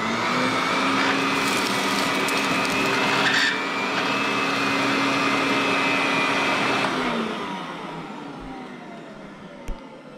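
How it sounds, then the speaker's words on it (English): Electrolux vacuum cleaner running steadily with a loud whining motor drone, then the tone drops and fades as it winds down near the end, with a brief knock after. "now it's time for my Electrolux as CatDog"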